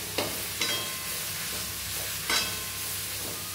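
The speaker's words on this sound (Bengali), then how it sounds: "এবারে আমি এর মধ্যে দিয়ে দিচ্ছি আদা আর রসুনের পেস্টটা" Ginger-garlic paste sizzles in hot oil in a pan for palak paneer, with a few distinct spatula scrapes as it is stirred, close and moderately loud.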